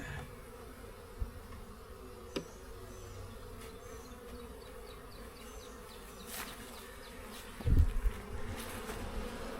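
Steady low insect buzzing from many honeybees inside a hive during an inspection, continuous throughout, with a few soft knocks and a brief louder thump near the end.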